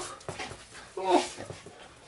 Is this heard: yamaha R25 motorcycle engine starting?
no